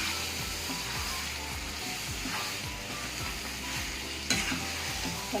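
Mutton curry is turned over in a hot pan, with repeated scraping strokes of the spoon against the pan over a continuous low sizzle, close and steady, ending with a sharper clack.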